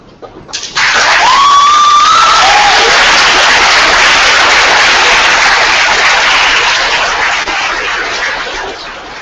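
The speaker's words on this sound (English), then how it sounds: "give all those people an incredible amount of applause for what they've done for you" Graduates at a university convocation applaud their families and friends, a broad, sustained wash of clapping from a large seated crowd that swells quickly and holds steady, with a few whoops rising early on.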